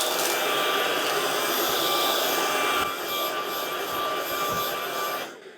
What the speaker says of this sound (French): Le mode automatique, ça augmente la puissance d'aspiration quand l'aspirateur se trouve sur un tapis.